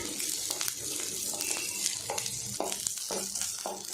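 Green chilies sizzle and fry in oil in a pan for a water-style spicy chutney, with steady crackling and occasional louder pops and stirring scrapes, close and continuous, no talking.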